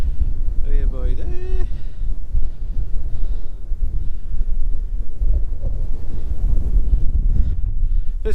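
Strong wind buffets the microphone on the open hilltop of Lord Hereford's Knob near Hay Bluff, a loud, continuous gusty rumble, with a voice speaking briefly near the start.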